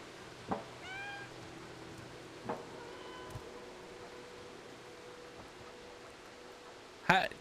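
A cat meowing in the video game Stray, a few short meows spaced apart at moderate level, with a brief louder burst near the end.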